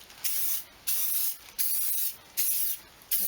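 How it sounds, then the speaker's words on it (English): Short bursts from an aerosol can of Simoniz tyre and trim spray hiss close by, about five quick sprays in a steady on-off rhythm. "And just give it a nice little spray."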